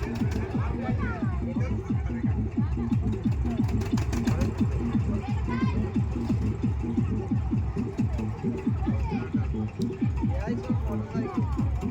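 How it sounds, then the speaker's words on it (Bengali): A slow-running ferry boat engine at Kalipur Kheda Ghat, carrying people, cars and motorbikes, thuds in a steady, rhythmic chug beneath a constant murmur of voices nearby. "খুবই আস্তে আস্তে চলছে নৌকাটা।"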